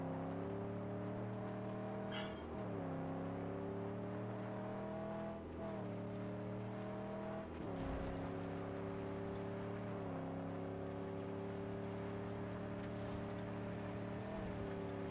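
Engine drone of a car driven in the Mad Max video game, a steady harmonic hum with shifting pitch as it accelerates and eases off, continuous and loud with a few brief knocks and scrapes along the way.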